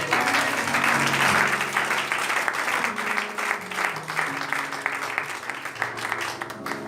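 A church congregation at a French-language service bursts into sustained applause, loud and continuous throughout, with cheering voices and faint musical tones mixed beneath the clapping.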